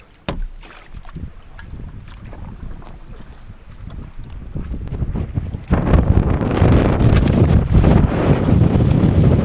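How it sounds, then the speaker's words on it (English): A strong gust of wind roars over a lake in late fall, buffeting the microphone from a small boat and swelling into a loud, sustained rush that continues to the end. "that was a crazy gust."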